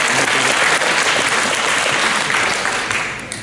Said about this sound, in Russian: Господа, ваши аплодисменты, мы добрались до этого.